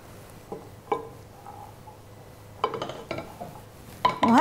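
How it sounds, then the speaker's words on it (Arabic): Grains are stirred with vegan butter in a pot, giving quiet scattered clinks and scrapes of a utensil against the metal, with a small cluster of knocks near the end. "في بالسوق زبده نباتيه فينا نستعملها قليله الدسم، ونقلبهم حتى يتشربوا الحبوب"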